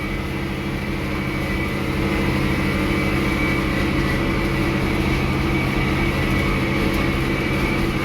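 A tractor runs steadily in a low gear while cutting thick hay in a field, a constant loud engine drone with a dense mechanical hum and no pauses throughout.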